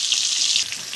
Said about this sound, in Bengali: তাহলে এবার আমরা আলু ভেজে নিচ্ছি।